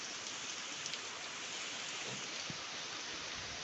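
Heavy, continuous rain pours outdoors in Odisha during Cyclone Dana, a thick unbroken roar of drops that holds steady for several seconds with a faint low rumble beneath and no one speaking.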